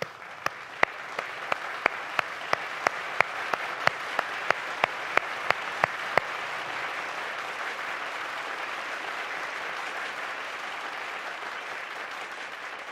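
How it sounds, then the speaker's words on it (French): Applause from an audience at an online award ceremony for Desjardins research and innovation scholarship recipients, a steady wash of clapping with sharp, evenly spaced close claps standing out over the first half. "Je vous invite tous à ouvrir vos caméras afin de leur donner une bonne main d'applaudissements."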